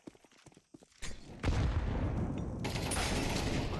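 Counter-Strike 2 gunfire: a few sparse sharp clicks and shots at first, then a sudden burst of sustained rapid shooting that continues loudly to the end.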